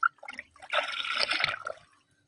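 Water sloshes and trickles as khaddar clothes are soaked in a tub, a short close splashing burst that swells and then fades to quiet.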